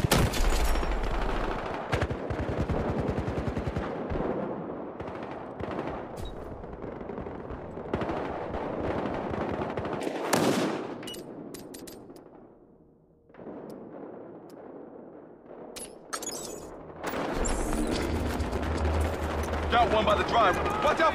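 Repeated bursts of automatic gunfire with heavier booms echo through a Battlefield Hardline team deathmatch on the Hollywood Heights map, with a short lull midway. Voices talk over the combat.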